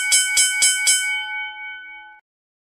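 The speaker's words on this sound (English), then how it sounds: "And we've got the bell." A single bell is struck four times in a quick steady rhythm, each ring clear and bright, the last tone sustaining and fading out into silence.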